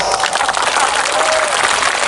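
Dense crowd applause at a lively stage sermon, loud and sustained clapping filling the whole moment with a faint voice underneath.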